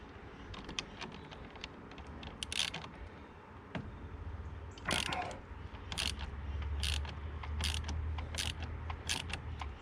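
A ratchet wrench turns a 13 millimeter bolt during a trailer hitch install on a 2019 Chevrolet Equinox, heard as quiet rapid clicking in repeated short bursts, close but faint, with a low hum beneath and no talking.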